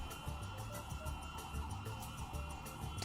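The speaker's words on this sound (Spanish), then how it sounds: "mientras tenemos aquí la ambulancia de fondo" An ambulance siren wails faintly and steadily in the distance, blending into the low rumble of congested Bogotá traffic.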